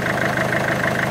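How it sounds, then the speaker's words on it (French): A diesel engine idles unevenly and vibrates, producing a steady close rumble with a faint rhythmic pulsing throughout. "Ralenti instable, le moteur commence à vibrer."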